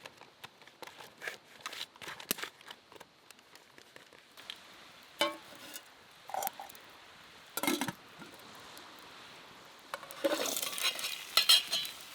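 Food cooking on a fire-heated flat rock at a campsite, soft sizzling with scattered scraping and stirring clatter, faint and close, growing busier toward the end, no voices.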